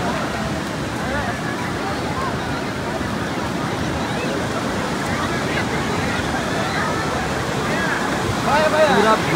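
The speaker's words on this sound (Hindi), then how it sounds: "तो गाइस ये देखो समुंदर, और पूरा वेव आ रहा है" Sea waves at Calangute Beach in Goa, a continuous broad wash of surf close by under a crowded shoreline, with a louder rush of water near the end.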